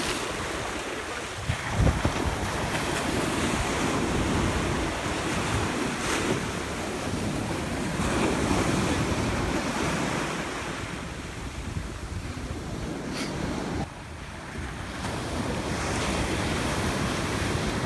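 Ocean surf rolls onto a Florida beach in a steady, broad wash of breaking waves, with wind buffeting the microphone throughout and no voices.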